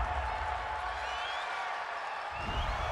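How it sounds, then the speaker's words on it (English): A large stadium crowd at an NFL game between the Miami Dolphins and Pittsburgh Steelers reacts to a penalty call with a steady, distant roar and murmur, sustained throughout and swelling slightly near the end. "this crowd does not like that call"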